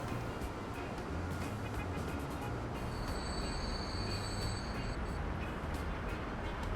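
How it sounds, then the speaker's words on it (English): A train pulling out of a station in the railway simulation game Transport Fever, a low continuous rumble of rolling wagons with faint high whines and clicks, moderately loud and steady, heard alone. "that train pulls out."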